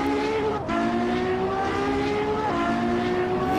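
A Ferrari 812 Superfast V12 in Assetto Corsa droning at high revs, with two sharp gear changes marked by quick drops and rising pitch, loud and close with no talk.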